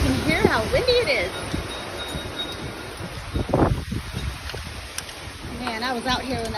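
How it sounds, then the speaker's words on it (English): Strong storm wind blusters steadily around a house yard in Katy, with someone talking over the continuous gusty roar. "you can hear how windy it is"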